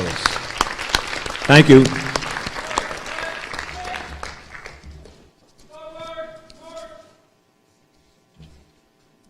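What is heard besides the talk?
audience applause for the new explorers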